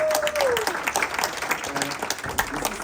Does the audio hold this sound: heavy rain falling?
no